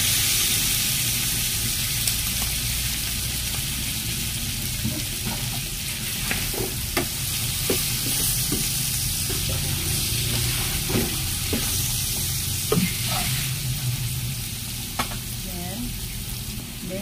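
Pork sizzles in a pan with its marinade sauce while being stirred, a continuous frying hiss broken by repeated scraping and clinking of the utensil against the pan, with no talking.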